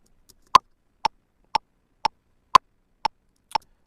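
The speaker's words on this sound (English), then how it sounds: "I personally don't like that click sound. What I tend to do is I change it and I add a marimba sound like this." A Pro Tools click track swapped to a marimba sound: seven short, evenly spaced wooden mallet notes about half a second apart, crisp and close, with nothing else underneath.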